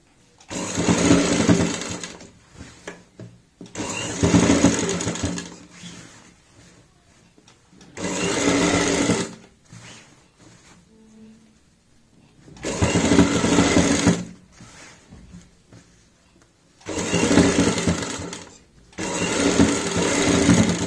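Electric sewing machine stitching a kurti neckline, running in steady bursts of a few seconds each with short quiet pauses between them, close and fairly loud.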